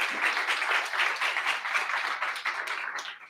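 An audience at a Pitch2Pitch startup event claps for a friend invited on stage to announce the winners, a steady round of many hands, moderately loud, fading near the end.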